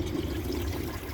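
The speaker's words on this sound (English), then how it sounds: "I'm going to drain the rest of the water from the tank" Water drains from an American Standard toilet tank in a short, steady rushing pour, fairly close and alone.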